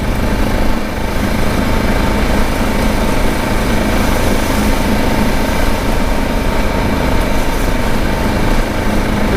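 A vehicle motor droning steadily while cruising at about 25 mph, a continuous loud engine hum with broadband road and wind noise throughout, no talking.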